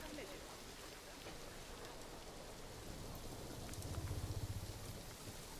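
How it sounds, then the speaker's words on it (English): Steady rain falls across a Planet Zoo park, a dense even hiss with a slightly louder patter near the end and no talk over it. "Amazing, hiding from the rain."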